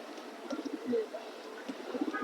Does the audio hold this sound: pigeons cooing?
yes